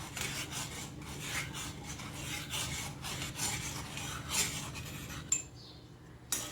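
A spoon scraping and rubbing against a pot as boiling milk with mango is stirred for ice cream, repeated rasping strokes in an irregular rhythm, with a couple of sharp clinks near the end.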